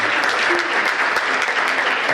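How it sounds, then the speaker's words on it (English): Dense, loud audience applause at an intergenerational panel dialogue, a continuous wash of clapping holding steady throughout. "We appreciate us giving you a round of applause,"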